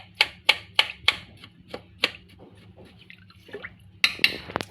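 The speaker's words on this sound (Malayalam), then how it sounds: "ഇത് ഒരു സ്പൂൺ കൊണ്ട് വേണമെങ്കിൽ ഒന്ന് നമുക്ക് ഇളക്കി കൊടുക്കാം" A spoon stirs chicken mandi masala water in a cooking pot, giving a run of crisp, evenly spaced clinks that slow and soften, then a quick cluster of clatter at the end.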